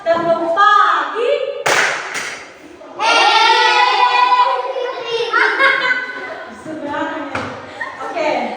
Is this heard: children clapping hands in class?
yes